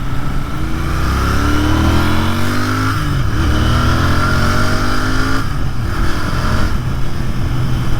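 A 2023 Royal Enfield Continental GT 650 motorcycle ridden on the road in sixth gear, its engine droning loud and steady with rising and falling pitch, plus a brief dip as it shifts or eases off.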